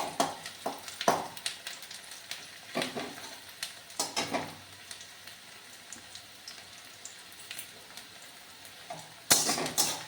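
Whole garam masala and bay leaves frying in hot oil, a soft crackle and sizzle with irregular sharp pops and occasional clinks of a stirring utensil against the pan, close by and with no talk.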